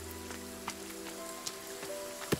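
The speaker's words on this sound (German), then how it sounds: "Es regnet die ganze Zeit schon, ey." Rain falls steadily in the survival game The Forest, a soft continuous patter with a few sharper drop-like ticks and a low background hum, with no talking over it.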